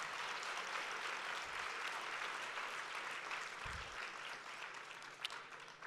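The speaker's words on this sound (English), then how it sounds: "Let's give Leslie another round of applause." Audience applause at an awards gala: a dense, steady wash of many people clapping in a large room, sustained throughout at moderate loudness.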